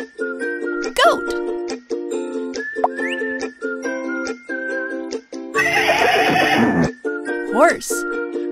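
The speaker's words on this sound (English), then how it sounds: "Horse." A horse neighing in a kids' animal app game, a loud breathy whinny bursting out midway over a bouncy looping game tune.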